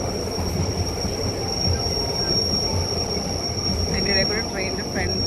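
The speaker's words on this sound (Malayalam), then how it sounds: "ഞങ്ങൾ പോകുന്ന ട്രെയിൻ തന്നെയാണ്" A passenger train runs through the snowy Swiss Alps. Its wheels rumble continuously with a high, steady squeal, and a brief screech of the wheels comes near the end, all heard from on board.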